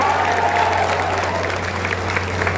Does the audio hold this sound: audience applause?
yes